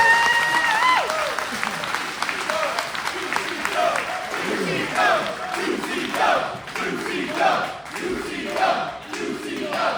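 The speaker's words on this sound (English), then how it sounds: "Give yourselves a round of applause." Audience at an independent wrestling event applauds and cheers in a sustained, rhythmic burst with some shouting, loud and close, while a voice talks over the crowd.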